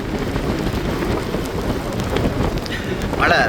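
Heavy rain and strong gusting wind during a storm near the sea, a steady loud roar throughout with a few brief higher sounds near the end.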